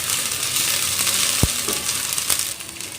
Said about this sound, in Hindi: अब मैं डालूंगी इसमें अदरक लहसुन का पेस्ट, इसे अच्छे से भून लूंगी अभी।